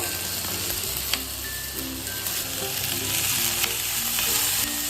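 Chighal (chivai) leafy greens with masala sizzle steadily in a pan over a low gas flame, a dense continuous fry with occasional soft clinks of stirring and no voices.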